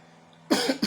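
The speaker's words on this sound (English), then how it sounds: "I'm having a little cough." A single harsh cough bursts out after a stretch of near silence, followed quickly by a shorter second cough, close and loud.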